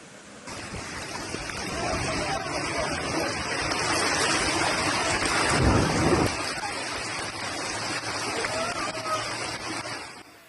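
Heavy rain pours steadily throughout, with a deep rumble of thunder swelling near the middle and rolling away, during a windstorm in Ukraine.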